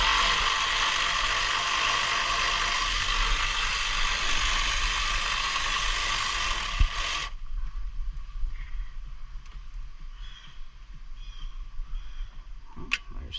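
Ratchet and deep socket loosening radiator bolts on a 1995-2001 Honda CR-V: rapid continuous clicking churns close by for about seven seconds, then stops, leaving faint scattered clicks and clinks.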